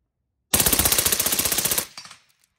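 An FS2000 rifle fires a single fully automatic burst of about fifteen rapid, evenly spaced shots, loud and close, ending abruptly with a brief fading echo.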